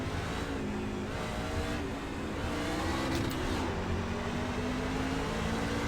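A race car engine in iRacing at a Las Vegas race start, revving and accelerating hard in first gear, its loud droning pitch climbing steadily, with other cars roaring close by and no talking.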